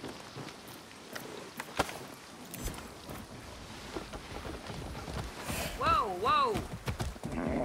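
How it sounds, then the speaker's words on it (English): Horse in the video game Far Cry 6, scattered hoof clops and a short whinny near the end, heard faintly among game effects with a voice talking. "Oh, the horse survived."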